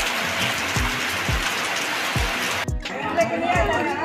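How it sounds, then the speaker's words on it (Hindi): Heavy rain pours on a college campus in Bokaro Steel City, a steady dense hiss with repeated low thumps, then shifts abruptly to a softer patter with faint activity nearby. "तो भाई पूरा बारिश होना शुरू हो गया"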